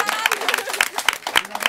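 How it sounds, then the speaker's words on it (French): A studio audience at a quiz show claps briefly in scattered, uneven bursts of individual hand claps while people talk over it. "on peut encore l'applaudir"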